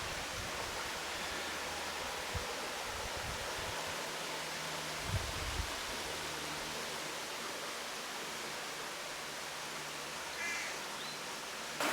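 Indian Creek Trail in Wildwood Park, Thousand Oaks, California: a creek flows over rocks in a steady, soft, even wash of water that runs unbroken throughout, with a few faint low bumps.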